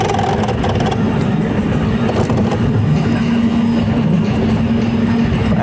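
A racing car in the Racing Unleashed game runs flat out at Spa-Francorchamps, its engine a loud, steady, unbroken drone throughout.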